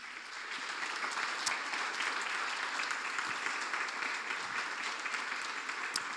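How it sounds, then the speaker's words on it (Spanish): A church congregation applauds Jesus during an evangelist's visit, sustained even clapping from a crowd heard at a moderate distance, steady for several seconds. "Le damos un aplauso a Jesús"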